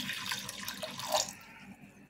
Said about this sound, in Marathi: 1 ग्लास पाणी टाकायचे